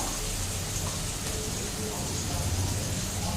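Ginger garlic paste frying in a pan for chicken curry, a dense, even crackling sizzle with no breaks, steady and moderately close.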